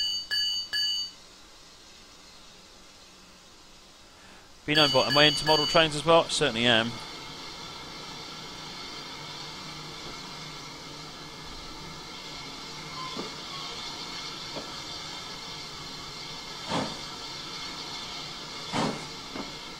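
Locomotive in Train Simulator 2016 on the Riviera route releases its brakes with a loud burst of hissing air and clanks, then settles into a steady low rumble with occasional beeps as it moves off, under someone talking.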